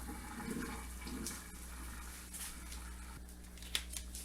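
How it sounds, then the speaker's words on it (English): Cooked fettuccine is tipped into a strainer in the sink, giving a steady rushing, splashing pour of water that fades into softer trickling, near and fairly quiet. "We're going to go ahead and strain our fettuccine."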